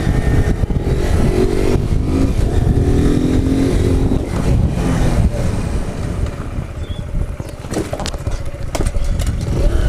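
A motorcycle being ridden for wheelies: a loud engine droning and revving, with surges and clattering toward the end, heard close and steady throughout.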